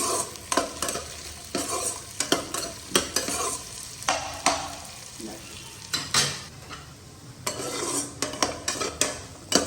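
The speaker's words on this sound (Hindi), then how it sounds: "पहले से इसमें राई जीरा ये सब डाल के उसको थोड़ा सा फ्राई करती हूँ, और जैसे ही थोड़ा सा हो जाएगा तो इसमें डालूंगी फ्रोजन मटर।" Mustard seeds, cumin and frozen peas fry in a pan for poha, with a steady close sizzle broken by repeated rhythmic scrapes and clinks of a spoon stirring against the metal.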